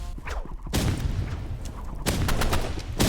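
Explosions and gunfire in a Roblox shooter match, with a grenade blast among them: a sudden loud burst at about 0.7 s, another heavy burst near 2 s, and continuous loud rumbling combat between and after.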